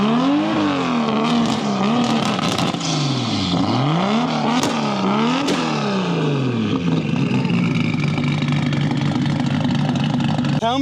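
An 800 hp Nissan Skyline R33 GT-R at a GT-R festival is revved hard several times, its loud pitch sweeping up and down, before it settles into a rough, steady idle.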